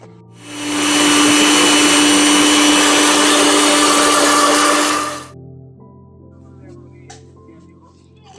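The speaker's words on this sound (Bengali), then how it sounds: "জিরা একসঙ্গে ব্লেন্ডার করে নিব" An electric blender whirs loudly and steadily for about four seconds as it grinds onion, garlic, dried chili and cumin together, then cuts off, leaving quiet kitchen background.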